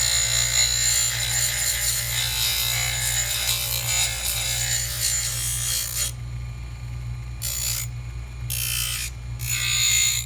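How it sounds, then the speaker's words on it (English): A coarse bur trims soft denture lining material, giving a rasping, grinding buzz over a steady low motor hum, with short bursts of cutting that start and stop in the final seconds. "you need something very coarse, not fine, to trim soft lining material"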